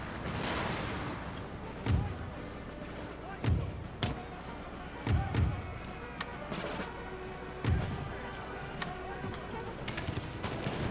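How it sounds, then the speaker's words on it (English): Cannon fire in an Empire: Total War battle in fog, with several deep booming shots spaced a second or more apart over a steady background of distant musketry, while someone talks throughout. "And their cannons start early."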